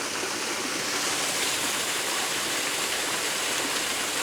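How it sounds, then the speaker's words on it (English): A waterfall gushes steadily over its top, a loud, close, unbroken rush of falling water with no voices over it. "Lovely sound, that water just gushing over the top, it's beautiful."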